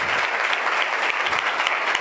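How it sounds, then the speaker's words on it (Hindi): A church congregation claps loudly and continuously during a worship service, an energetic burst of many hands close by, with a few voices faintly mixed in. "मेरे यीशु के लिए जोरदार तालियां बजाओ"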